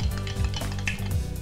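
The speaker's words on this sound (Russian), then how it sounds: "Все перемешиваем ложкой и оставляем минут на 15." A spoon stirs dry yeast into warm water in a bowl, giving a short, steady run of close scraping and swirling with no voices.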